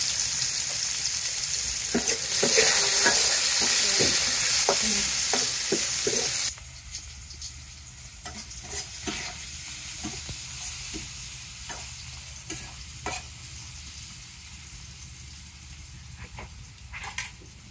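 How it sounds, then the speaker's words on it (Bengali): Chopped onions hit hot oil in a pan for a fish curry, giving a loud, dense sizzle that drops to a softer, steady frying crackle after a few seconds, with clinks of stirring throughout. "রান্নার জন্য প্রথমে তেল দেওয়া হলো, তারপর পেঁয়াজ কুচি, তেল গরম হয়ে গেছে, পেঁয়াজ কুচি"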